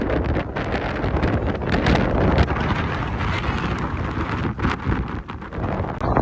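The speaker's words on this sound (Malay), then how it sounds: "Arus angin." Strong wind blasts across the microphone outdoors at a volunteering camp in New Zealand, a loud continuous roar with gusty buffeting and rustle, no voices.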